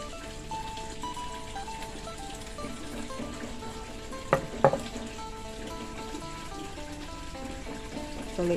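Steady rain patters on a surface nearby while someone pots plants in a coconut shell under a small eave, a soft continuous hiss with a couple of brief louder knocks midway.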